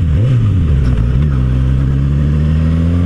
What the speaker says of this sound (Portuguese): Olha o roncar dessa moto na hora que você dá uma reduzida